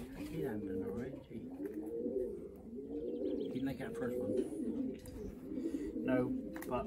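Racing pigeons coo steadily inside a loft, a continuous low burbling chorus of several birds close by, with faint flutters and a little muffled talk in the background.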